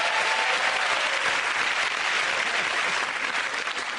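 Sustained, loud applause from a comedy panel show's studio audience fills the whole stretch, even and dense, easing slightly toward the end, with no talk.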